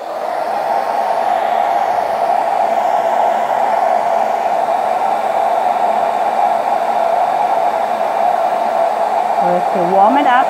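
A heat gun or hair dryer blows a loud, continuous airy whir as it warms a flexible WoodUbend moulding. The hum stays steady throughout, with a faint voice near the end.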